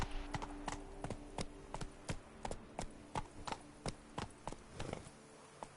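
Roach the horse gallops across flat ground in The Witcher 3, a steady run of sharp, evenly spaced hoofbeats, close and clear, with no talking.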